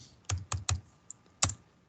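Numbers being keyed into a spreadsheet on a computer keyboard: four quick, crisp keystrokes, then a short pause and one final tap, close and fairly quiet, with no talking.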